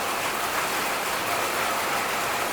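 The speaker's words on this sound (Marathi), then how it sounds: "पावसाचा आवाज येत असेल, खूप मोठा पाऊस पडायला लागलेला आहे" A steady, heavy downpour making a constant broadband hiss and roar, even and unbroken throughout, with no voices.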